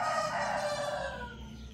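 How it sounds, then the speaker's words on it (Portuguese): A rooster crows once, loud and close, in a single drawn-out cock-a-doodle-doo that fades toward the end, early in the morning. "Eita, o galo."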